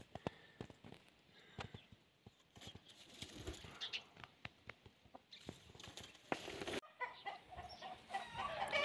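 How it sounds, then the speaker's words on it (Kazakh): Brahma breed chickens clucking around a farmyard, soft scattered clucks and pecking taps with shuffling sounds, faint and close, no speech. "Брама тұқымдас тауық."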